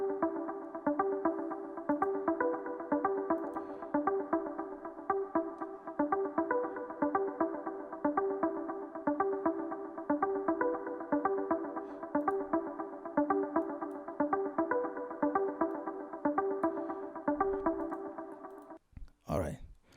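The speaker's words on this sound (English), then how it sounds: "It's like a mute guitar, but it sounds like this." A Nexus synth pluck preset that resembles a muted guitar, programmed as an Afro house pattern in FL Studio, repeats in a steady looping rhythm for about eighteen seconds before a brief burst of noise at the end.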